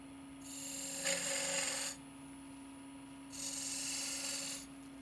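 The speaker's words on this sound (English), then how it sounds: "I use the tip of the skew chisel to create a V groove at each transition" A skew chisel tip cuts a V groove into spinning wood on a lathe, two separate raspy scraping passes under a steady motor hum, each about a second long.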